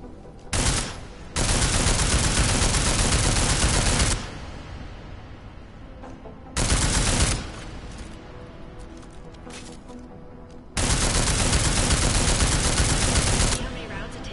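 Rounds of gunfire in Deus Ex: Mankind Divided come in three long, loud, sustained bursts of rapid shots, separated by quieter stretches of game ambience.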